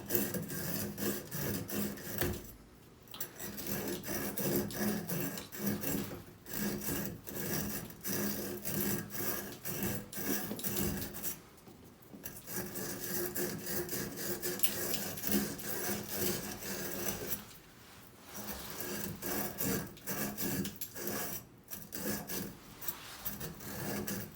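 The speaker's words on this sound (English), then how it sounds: "take a little bit of sandcloth, come inside here, go back and forth, clean all that calcium off" Sandcloth scrubbed back and forth by hand against calcium buildup on a Delta shower valve seat, a steady close rasping rub in repeated strokes with a few brief pauses, no talking.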